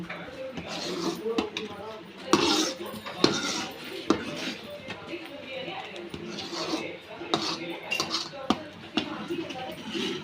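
A spoon scraping milk skin off the edge of a kadai into the milk, with close metallic clinks and scrapes against the pan while someone talks throughout.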